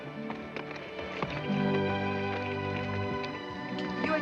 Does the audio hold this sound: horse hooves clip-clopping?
yes